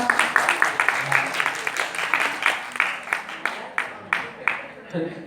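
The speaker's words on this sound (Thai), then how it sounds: "ปรบมือดังๆอีกสักครั้งครับ" An audience claps together in a steady, regular rhythm after a Thai candle dance, with loud, evenly spaced claps and a murmur of voices behind them before the clapping winds down.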